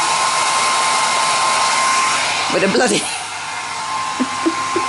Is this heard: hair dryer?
yes